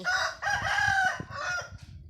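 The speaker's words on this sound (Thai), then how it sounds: "ไก่มึงมาขันอะไรตอนนี้เนี่ย" A rooster crows loudly and close by in one long, drawn-out call lasting about two seconds, over faint background music with soft low thumps.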